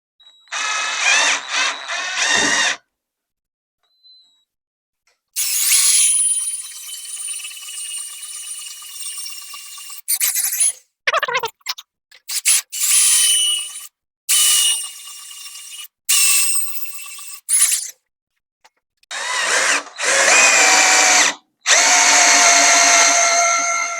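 Power drill boring a deep hole, whining loudly in long sustained runs broken by pauses and short stop-start bursts, close and harsh, with no voices.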